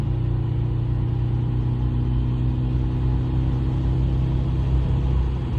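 A Chevrolet Impala's engine holds a steady, loud, low rumble heard from inside the car, droning evenly with little change in pitch for several seconds.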